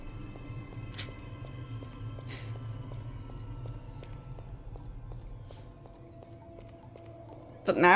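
Footsteps in the 1999 video game Ultima 9 tap in a regular, quiet rhythm over low background ambience, followed by a sudden loud burst at the very end.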